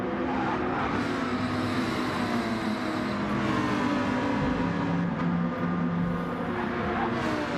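A Lamborghini race car sliding through turns in a sim racing game at Lago Maggiore, its engine droning steadily with a continuous tonal whine and tyre noise throughout, fairly loud and unbroken.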